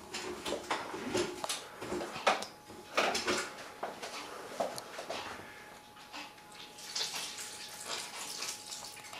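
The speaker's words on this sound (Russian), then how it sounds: "Теперь нужно немножко теплой водички." Warm water is poured into a bowl while making homemade sourdough bread: a quiet, uneven splashing trickle mixed with soft kitchen clinks and knocks, fairly faint and close.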